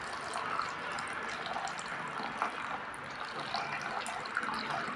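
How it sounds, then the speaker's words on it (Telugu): Water poured into an Agri Aquagel mix, a steady close trickle with small splashy bursts running throughout, no voices. "ఇప్పుడు మనం మిక్స్ చేసే దాంట్లో వాటర్ పోస్తాం"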